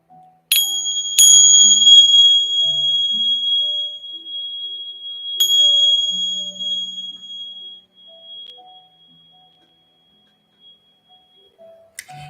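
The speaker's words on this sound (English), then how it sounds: "I'm going to ring the bell one more time" A bell rings three times: two quick strikes, then a third a few seconds later, each with a bright ringing tone that decays slowly, with faint background sounds.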